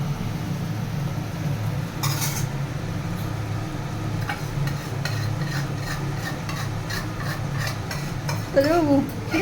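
Egg kosha cooks in a pan with a low steady sizzle, while a utensil scrapes and clinks against the metal in irregular strokes and a voice briefly rises near the end.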